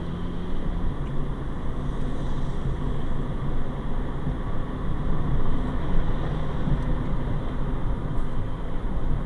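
A 1998 Honda Civic EX with 50K miles is driven through town from a green light, with steady engine and road rumble that stays even and fairly loud throughout.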